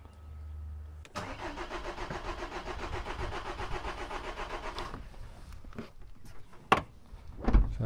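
A common rail diesel engine cranks over for about four seconds with a steady rapid chugging rhythm, close and moderately loud, then stops, followed by a few clicks and knocks.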